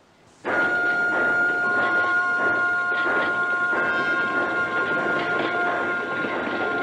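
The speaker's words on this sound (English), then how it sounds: "The train bearing the body of Franklin Delano Roosevelt moved slowly from Warm Springs, Georgia" A steady rumble with high sustained whining tones, like a train rolling slowly past at close range, continuous throughout after a brief quiet start.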